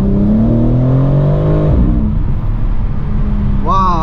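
BMW M4 Competition rated at 510 hp, its engine revving hard and close. The pitch climbs and then drops off, and the rev rises sharply again near the end.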